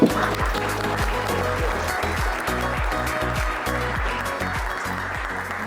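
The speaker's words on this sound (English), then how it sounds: "let's welcome her with a round of applause" An audience at a community education talk applauds to welcome a speaker, continuous clapping from many hands under a repeating tonal pattern, likely background music, holding steady throughout.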